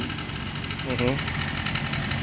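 Motorcycle engine fitted with an oversized carburetor and V8-style exhaust, idling with a steady low rumble and vibration, loud and close, with a brief voice passing over it.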